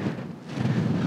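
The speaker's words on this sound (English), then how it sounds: "I'm hoping the mic is doing okay, because it is quite windy up here" Wind buffets a microphone on a mountain top in the Brecon Beacons, Wales, making a steady, fairly loud rushing roar with low gusty rumble and no speech.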